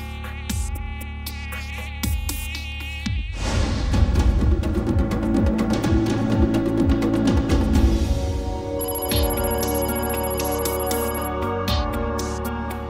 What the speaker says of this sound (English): A mosquito emerges from a boggy home.